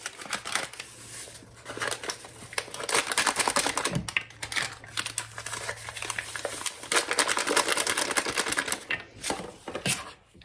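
Hand mixer whirring through Amish friendship bread batter, a close, busy, uneven rattling drone with a continuous clatter of beaters against the bowl.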